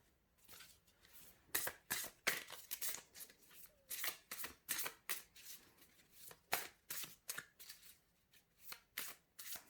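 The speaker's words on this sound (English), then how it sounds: "I'll give them a shuffle" Cards being shuffled in repeated quick riffling bursts, crisp and close, with short pauses between each shuffle.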